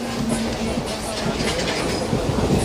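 Passenger train rolling along rails on an east coast route, a steady loud rumble with rhythmic clickety-clack from the wheels, heard from inside a carriage with faint voices underneath.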